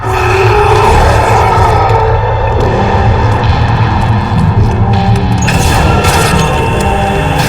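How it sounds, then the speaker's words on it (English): Fireworks burst in the video game Shadows of the Damned, a loud unbroken wash of booms, crackles and rumbling with no voices over it. "Fireworks! We could use these to chase away the darkness, at least in short bursts."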